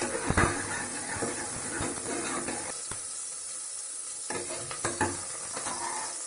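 Sliced onion sizzles in hot ghee with mustard seeds and two dried chillies for hotel-style sambar rice, a steady close frying hiss broken by the scrape and clatter of stirring.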